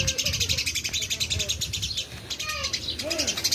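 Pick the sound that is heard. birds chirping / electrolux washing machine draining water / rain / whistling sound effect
birds chirping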